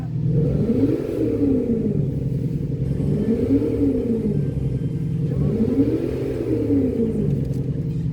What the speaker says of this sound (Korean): 마세라티 그랑트리스모 소리였습니다.